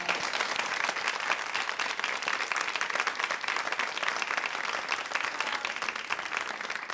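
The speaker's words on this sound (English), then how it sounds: "Can we just give a special round of applause to these special friends of mine?" Steady, dense applause from a sizable audience, loud and sustained throughout with no pauses or talking.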